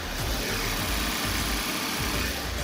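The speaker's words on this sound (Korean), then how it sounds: "영상으로 엔진 소음 한번 담아보도록 하겠습니다" Hybrid gasoline sedan idling with its hood open, a low, smooth, steady engine hum with a faint soft pulse, close and continuous with no talk.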